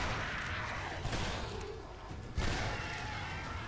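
Gunfire in the video game Shadow Warrior: a few scattered muffled shots and thumps, with one sharper burst near the end, over a rumbling game background at low level.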